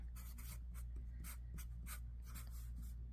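Handwriting a Bible verse on a palm-tree beach craft page, close pen scratches in quick bursty strokes with brief pauses, no talking heard.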